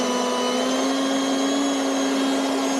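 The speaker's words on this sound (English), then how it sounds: "Speed number 5 is the powerful one." An inexpensive handheld leaf blower runs at its top turbo speed, a loud, steady high-pitched motor whine with a constant rushing of air, close and uninterrupted throughout.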